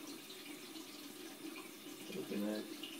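Water running from a kitchen tap, a steady broadband flow that swells louder near the end, with a person speaking briefly over it.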